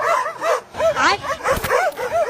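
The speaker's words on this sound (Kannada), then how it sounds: "ಅದೇ ಅನ್ಕಡೆ ಯಾರೋ ನಾಯಿ ಬೋಳ್ತೈತಲ್ಲ ಅಂತ" A dog barks repeatedly nearby, a quick run of five or six yelping, slightly whiny barks at a steady rhythm, loud and close.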